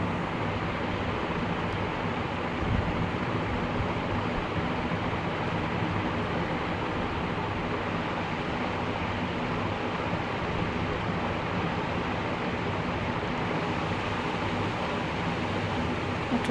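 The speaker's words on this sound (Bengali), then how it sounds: "এটাকে একটু ভালো করে তেলের মধ্যে একটু ভালো করে ভেজে নিব।" Soya chunks with chili powder fry in oil over medium heat for noodles, a dense, steady hissing sizzle that holds unbroken throughout with no talking.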